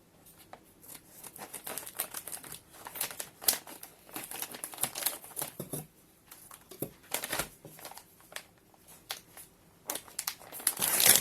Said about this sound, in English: Let's have a look and see the best way to open this.